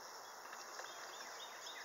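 Honey bees hum at an apiary during an April hive check, a faint, steady buzzing drone with no pauses.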